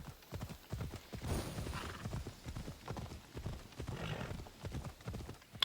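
Horse hooves clip-clop steadily throughout with a brief whinny, from a horse in the video game Assassin's Creed Odyssey, close and fairly loud against faint game ambience.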